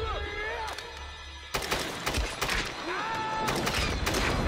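Gunfire in Tomb Raider, rapid bursts of shots after a quieter start, loud and sustained, with voices talking over the shooting.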